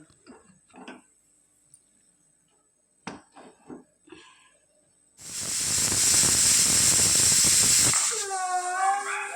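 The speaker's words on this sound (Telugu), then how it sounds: "ఒక ఐదు విజిల్స్ రానివ్వాలి" A loud, sustained hiss of steam bursts from a pressure cooker whistle while cooking mutton curry, lasting about three seconds, then fades to a wavering whine; quiet clattering and faint sounds come before it.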